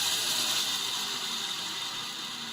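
Continuous high-pitched mechanical whirring and fast rattle of a portable band sawmill blade cutting wood, steady and unbroken, with no voices.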